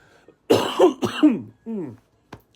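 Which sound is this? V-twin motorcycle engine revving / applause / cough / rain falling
cough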